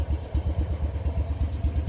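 A 65-year-old BMW Isetta's one-cylinder, 13-horsepower engine putting along, a steady low rhythmic thumping of rapid pulses, close and continuous.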